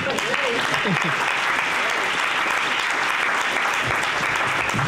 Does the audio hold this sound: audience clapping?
yes